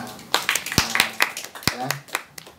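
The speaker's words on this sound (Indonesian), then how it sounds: "Tepuk tangan dong buat kalian." A student leadership training group gives scattered, uneven claps, several distinct loud hand strikes with gaps between them, while voices talk over the clapping.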